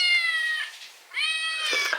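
A recorded cat meow plays from a children's sound book, two drawn-out, bright meows in a row with a brief gap between them.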